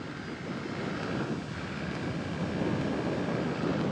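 A light aircraft coming in to land, a steady broadband engine drone with rushing wind noise, fairly loud and even throughout, no voices.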